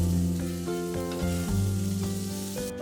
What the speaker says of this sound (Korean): 내 몫의 스테이크를 대충 만들어서